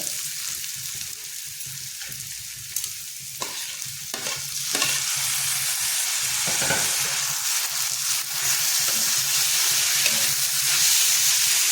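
Tomatoes tipped into a pan of browning onions for anda bhurji, stirring clatter and scrapes at first, then the sizzle grows louder and stays steady and close.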